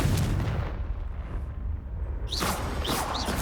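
A Confringo spell blast in Hogwarts Legacy erupts as a loud, close, booming explosion with rumbling debris, followed by sharp crackling bursts near the end.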